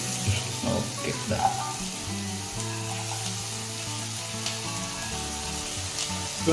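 Bitter gourd skin and tender seeds frying in a masala in a pan, giving a steady broadband sizzle with faint stirring clatter throughout, no talk.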